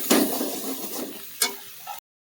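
Chilli powder, meat masala and turmeric stirred in a pan of kachori filling, a few soft scraping and sizzling strokes close by, brief and moderately loud.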